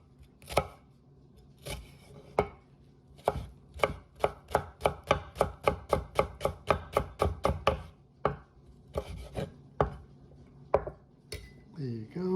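A knife minces a peeled vegetable on a cutting board in a fast, even run of crisp chops, with a few slower cuts before and after and a brief voice near the end.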